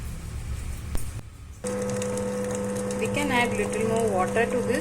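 A wet grinder works fermented rice and dal batter for soft idli, a steady motor hum running close and loud, starting about a third of the way in and continuing to the end, with faint rising squeaks from the mechanism.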